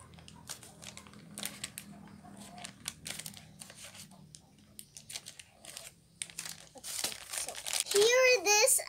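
A gift box is cut open and its packaging crinkles and crackles in short, close bursts, with someone talking throughout and a louder rustle near the end.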